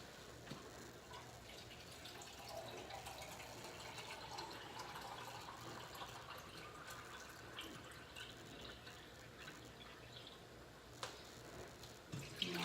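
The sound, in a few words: pouring water into coconut milk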